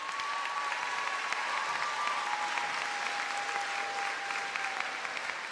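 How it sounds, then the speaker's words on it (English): Steady applause from a commencement ceremony audience fills the whole stretch, dense and even, a sustained wash of clapping with a faint tone running beneath it. "Let's give her a round of applause."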